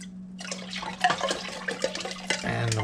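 Water poured into a pot of Sunday tomato sauce made with paste, a short splashing, gurgling pour that starts after a brief hum and runs close and fairly loud for about two seconds.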